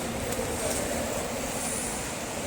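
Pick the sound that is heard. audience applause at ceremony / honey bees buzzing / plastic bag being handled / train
train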